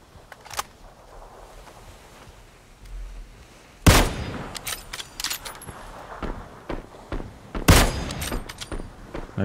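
Gunfire in the PUBG battle royale game, with two sharp, loud shots standing out over quieter scattered rattles and clicks, with no talking.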